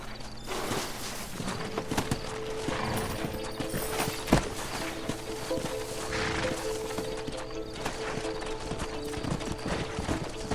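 Steady clip-clopping hoofbeats of a horse walking in the video game Red Dead Redemption, close and continuous, over a busy background ambience with no talking.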